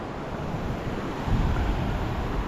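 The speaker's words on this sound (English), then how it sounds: "You hear the bridge getting slammed?" Hurricane floodwater surging against a bridge on Fugate Road in Del Rio, Tennessee, a steady loud rushing roar with wind buffeting the microphone, swelling heavier partway through.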